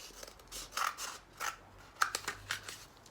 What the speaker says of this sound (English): you can cut the toilet roll